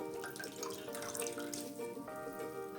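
Water trickling and dripping as wet moss is squeezed by hand, a short steady splashing patter up close with no voices.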